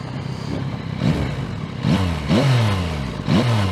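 A Yamaha MT-09 inline-triple motorcycle engine revs in several sharp, rising bursts, each blip climbing and falling quickly over a steady low idle, close and loud.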